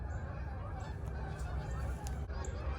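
A flock of geese on a farm honks continuously, a busy chorus of overlapping calls at moderate distance, fairly quiet overall.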